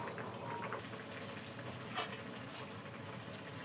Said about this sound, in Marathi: आपल्या वांग्याला कशा उकळ्या लागल्या